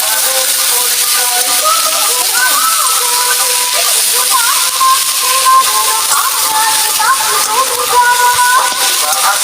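Stuffed flower fritters sizzle steadily in hot oil, a dense continuous crackle and hiss close up, with a voice talking over the frying throughout.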